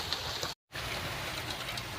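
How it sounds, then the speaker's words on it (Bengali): Steady hiss of rain falling, broken by a short moment of silence, then continuing evenly and close by. "এই যে পানি পড়তেছে"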